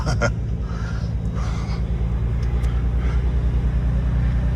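A 2026 Dodge Charger Scat Pack Sixpack idling with a low, steady exhaust gurgle and rumble that holds throughout, with faint higher engine noise near the start.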